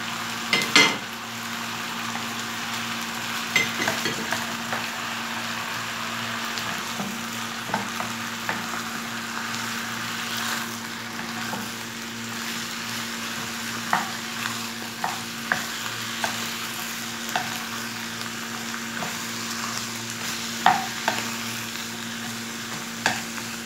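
Onions hitting hot oil in a pot with meat for Egyptian kebab halla, giving a constant sizzle with a low steady hum underneath and repeated spoon-on-pot scrapes and clinks over the sizzle.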